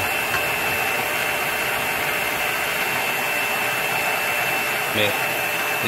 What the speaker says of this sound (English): So I'm going to start mixing. Start the machine.